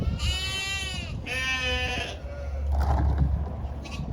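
Several sheep bleat loudly and repeatedly at close range on a farm during lambing season, with long wavering calls overlapping against a steady low hum of machinery or wind.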